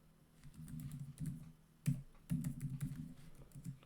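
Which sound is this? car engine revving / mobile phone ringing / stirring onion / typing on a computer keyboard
typing on a computer keyboard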